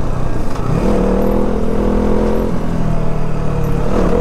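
A motorcycle fitted with an Akrapovic exhaust and a dB killer revs loudly and close, the engine pitch climbing, holding, then dropping back to a rough idle.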